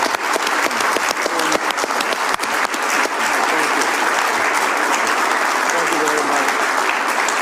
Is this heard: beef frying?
no